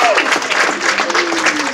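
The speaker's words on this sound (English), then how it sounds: "let's everybody get a cheer for the people that have done this" A church congregation at a Presbyterian 25th anniversary Thanksgiving service claps together, a dense steady patter of applause with some crowd voices mixed in, close and fairly loud throughout.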